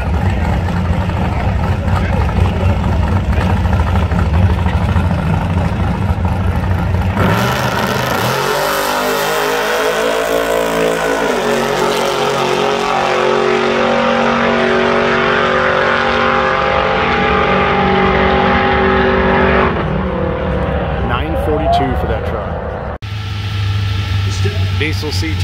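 Diesel Chevrolet C10 street truck racing down the drag strip at Tulsa Raceway Park, a loud engine roaring and rising through the gears for several seconds, then cutting off with a sudden change, crowd and track noise around it.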